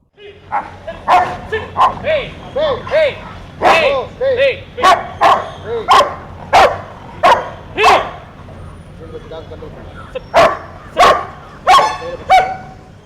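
A police sniffer dog barks repeatedly in loud, sharp bursts, close by, with a few whimpering yips between barks and voices talking underneath.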